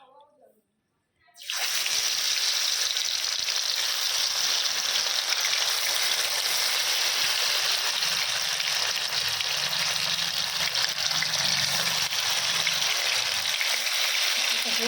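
Fish coated with a little gram flour drops into hot oil in a pan over a gas flame. After a short quiet start, a loud, steady hiss of sizzling runs without a break, close by.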